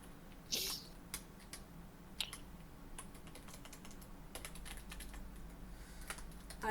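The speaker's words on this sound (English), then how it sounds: "I'm just typing." Quiet typing on a computer keyboard, scattered clicks and short bursts of keystrokes at an uneven pace, close and faint over a low room hum.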